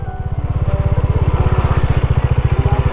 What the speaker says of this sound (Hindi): तो लगाते हैं हम अपनी बाइक।